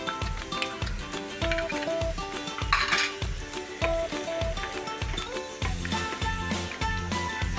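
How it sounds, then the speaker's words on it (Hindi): Mutton browns with ginger garlic paste in a pot for urad gosht, with a soft sizzle under a rhythmic clatter of a spoon scraping and stirring against the metal, repeating steadily about once a second. "1-2 मिनट हो चुके हैं हमारे मटन को जिंजर गार्लिक पेस्ट के साथ भूनते हुए"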